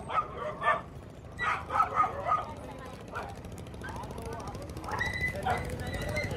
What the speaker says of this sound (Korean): 아, 강아지 너무 예쁘다,